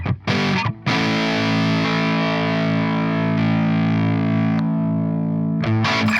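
A Gibson Firebird '64 electric guitar with both Lace Mini Nitro Hemi pickups switched on rings out one long, thick, distorted chord in a classic rock tone, sustaining loud and up close before a few short stabs at the end.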